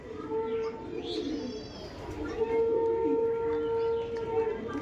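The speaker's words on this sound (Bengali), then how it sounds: "এই দেখুন, এটা হচ্ছে পায়রা দেবদার" Andhra pigeons in Deb-da's loft in Behala coo in low, throaty, sustained tones, close by, with a faint high wail in the background and someone talking over them.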